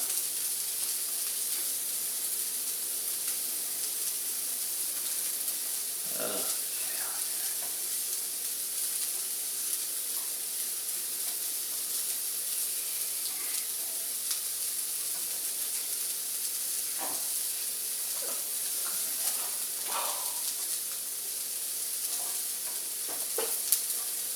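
A jalapeno burger patty fries on a hot griddle with a steady, close, hissing sizzle, broken by a few brief scrapes and taps as the patty is flipped.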